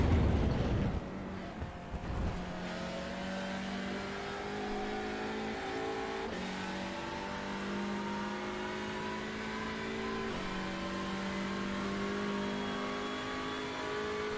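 A racing car engine in a sim racing game at Donington Park revs hard and steadily, its rising harmonic whine climbing through repeated gear changes, loud and continuous with no talk.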